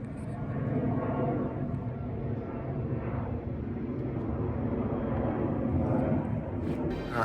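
An airplane flies overhead outdoors, a steady, broad low rumble that stays fairly constant and moderately loud for the whole stretch, with no talking.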